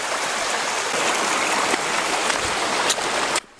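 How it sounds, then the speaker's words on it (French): Rushing water pours loudly and continuously close by along a mountain trail turned into a river on the Tour du Mont Blanc, a dense broadband flow that cuts off abruptly at the end. "là le chemin c'est devenu une grosse rivière"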